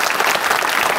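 A comedy show audience applauds a folk ashiq performer in a brief, loud, dense burst of clapping with no speech over it.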